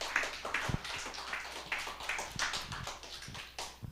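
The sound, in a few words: audience applauding to welcome a speaker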